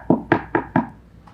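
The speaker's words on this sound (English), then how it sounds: "So is anybody gonna get that door" Four firm knocks on a door in quick, evenly spaced succession, close and distinct, followed by a fainter fifth tap, on a comedy radio program.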